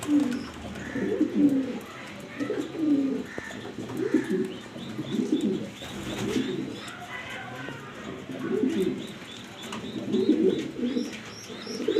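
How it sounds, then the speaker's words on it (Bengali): Afshan grizzle pigeons coo in repeated low, rolling phrases, several birds close by with overlapping calls and faint chirps in the background. "আফসান গ্রিজেল নরকবুতর বাজারের সেরা দেখতেই পারতেছেন"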